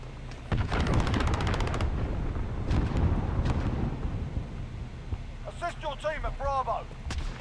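Enemy cruise missile strike in a Black Ops shooter game, heavy booming blasts and rumbling explosions rolling through the first half, followed by quieter clatter with a voice speaking near the end.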